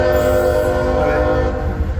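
A CSX mixed freight train sounds its horn loudly and up close, a sustained chord blaring over the heavy rumble of rolling railcars.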